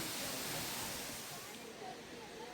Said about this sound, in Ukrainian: Відчуття, до речі, були неймовірні, коли водоспад знаходиться прямо над тобою.